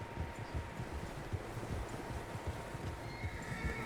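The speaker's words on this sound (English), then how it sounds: "Horses, quite a few of them" Steady muffled hoofbeats of several horses galloping in Red Dead Redemption 2, a dense rolling thud under a wide wash of wind-like noise.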